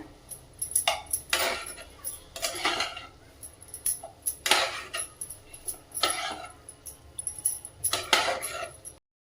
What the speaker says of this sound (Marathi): अशा पद्धतीने आता सर्व मसाले छान असे टाकून झाले परतून घेऊया